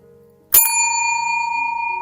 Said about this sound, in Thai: กดกระดิ่งก่อน